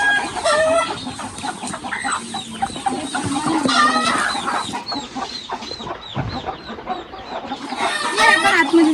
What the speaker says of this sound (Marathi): सगळं कोंबड्या माझ्यापासून लांब पळत आहे.